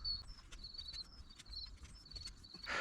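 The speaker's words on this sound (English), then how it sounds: "it's really cute that the birds are singing" Small birds in a garden give faint, thin chirps and repeated high tweets. The calls come in a loose, scattered series over quiet background noise.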